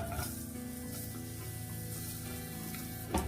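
Onion frying in hot oil in a pan, a steady close hiss and crackle that holds evenly throughout, ending with a brief louder sizzle.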